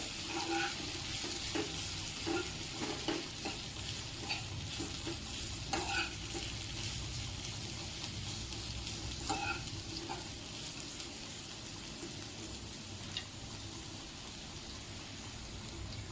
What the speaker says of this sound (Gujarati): પછી એકદમ બરાબર હલાવી લઈએ